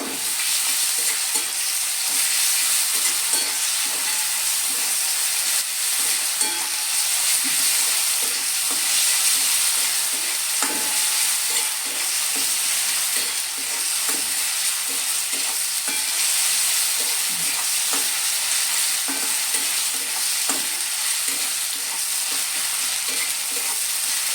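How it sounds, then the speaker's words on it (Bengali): Garlic paste stirred and frying in a pan for a spinach curry, a steady loud sizzle with repeated scraping stir strokes throughout, no voices. "1 টেবিল চামচ রসুন বাটা। আমি এটাকে ভালো করে 2 মিনিট নেড়ে ছেড়ে দেবো"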